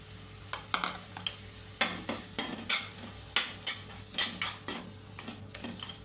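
Cabbage curry with curd is stirred and fried in a pan, giving a soft sizzle under repeated scraping and clinking strokes of a spoon against the metal, steady and close.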